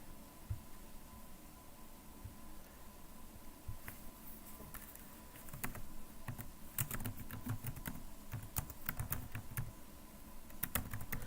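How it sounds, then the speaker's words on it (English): Someone types a message on a computer keyboard, a run of soft close keystroke clicks that grows busier toward the end over a low room hum. "I should type this too."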